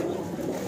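Young highflyer pigeons kept for sale in Lahore give a brief, soft cooing murmur at close range over a low background hum.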